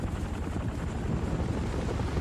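Military helicopter in Vietnam War footage, a steady rumbling rotor and engine roar mixed with dense low battle noise, loud and continuous throughout with no talk.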